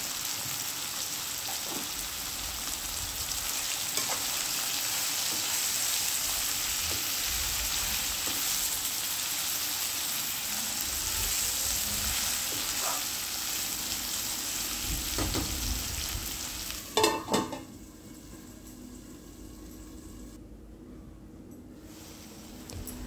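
Eggplant curry seasoned with turmeric cooks in a pan, giving a steady, even sizzle throughout with a few soft clinks and a brief louder clatter near the end before the sound dies down.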